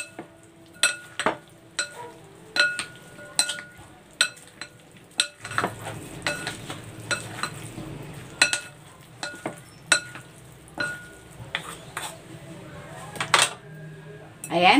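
A spoon scrapes and clinks repeatedly against a pan while okra and eggplant are stirred with sautéed shrimp paste, irregular taps over a soft sizzle.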